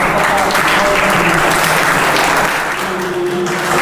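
An audience at a youth welfare club meeting applauds loudly and continuously, a dense close patter of many hands clapping.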